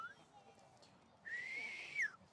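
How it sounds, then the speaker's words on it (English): A person whistling, a faint short tone at first and then a louder sustained whistled note that slides up near the end, close by. "can you whistle? Whistle!"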